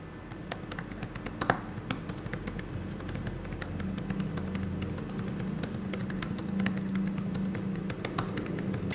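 Typing on a GOOJODOQ Magic Keyboard for an 11-inch iPad, with shallow key travel: a steady stream of light, rapid key clicks close by, continuing without pause and with no one talking.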